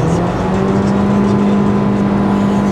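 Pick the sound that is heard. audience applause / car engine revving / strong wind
car engine revving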